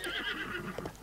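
Horse neighing in Zelda Breath of the Wild, a short, close whinny with a faint hoof clop near the end.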